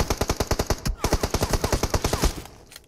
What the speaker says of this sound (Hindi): देख वो फ्री फायर मार रहा है अपने पे